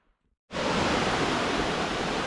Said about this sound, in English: Right, so we're at Posworth Gill Falls.